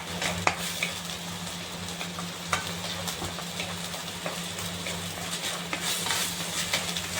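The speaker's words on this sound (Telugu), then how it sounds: "నేతిలో బాగా వేగింది ఫ్రెండ్స్ బియ్యం అనేది" Rice grains fry in ghee over a medium flame while being stirred for rice flour payasam, a steady close crackle and sizzle with occasional sharp scrapes of the spoon against the pan.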